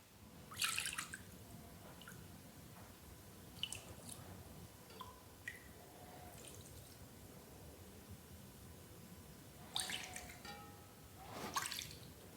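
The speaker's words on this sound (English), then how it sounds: "We remove the whey until it's at the same level as the curd grains." Whey is drained off fresh mozzarella curd grains during homemade cheesemaking, giving faint drips and soft squishy liquid sounds, with a few brief louder splashes in a quiet room.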